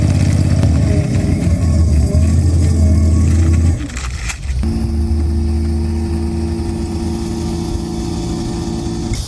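Loud engine drone of a lawnmower running close by, dipping briefly midway, then settling into a steady, even hum.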